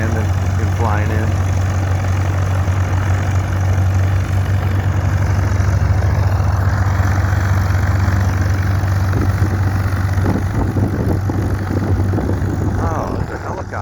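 A propeller aircraft comes in to land at a busy airport, its engine a steady, loud low drone throughout, with some crackling texture and wind noise over it.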